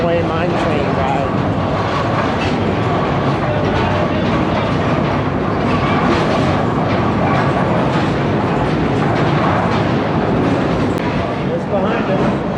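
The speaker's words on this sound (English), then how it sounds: "It's like the real runaway mine train ride." An underground mine train in Silverton, Colorado rattles and roars steadily on its rails, a dense, loud rumble that fills the whole stretch with constant clatter.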